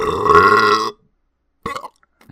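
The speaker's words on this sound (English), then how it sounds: "I burped." A long, loud, drawn-out burp, then a pause and a few brief, quieter sounds.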